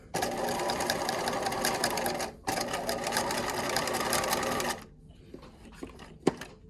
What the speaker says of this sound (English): this is the last thing you have to sew.